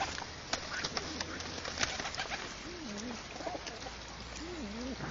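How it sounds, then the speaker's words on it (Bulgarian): Pigeons coo in soft, repeated rolling calls among a flock crowding around a person feeding them by hand, with wing flutters and pecking noises over a steady outdoor background. "10 гълъба са върху тебе в момента."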